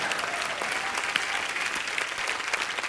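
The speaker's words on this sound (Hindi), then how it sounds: "जोरदार तालियां।" A studio audience on The Kapil Sharma Show, a comedy talk show, claps in a dense, steady burst of applause that is fairly loud and continuous.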